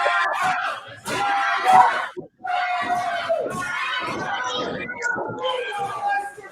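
A wrestling crowd at an RPW Hardcore Championship match reacting against Bud Heavy, a loud, dense wash of shouting and jeering voices that swells and dips, with a brief pause near the middle.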